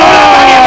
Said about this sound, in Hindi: एक बार जोरदार तालियां होनी चाहिए शमशेरा के